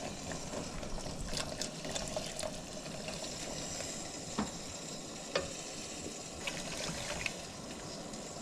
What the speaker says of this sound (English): I've got 2 cups of water in there